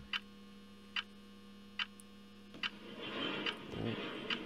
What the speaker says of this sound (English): That is the sound of the vent.